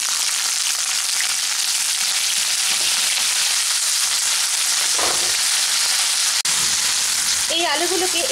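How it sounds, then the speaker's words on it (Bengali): Thick-cut long potato slices frying in hot oil in a home Bengali kitchen, a loud continuous sizzle with a brief stir and clatter near the end. "এখন আমি এর মধ্যে দিয়ে দিচ্ছি দুটো বড় সাইজের কেটে নেওয়া আলু"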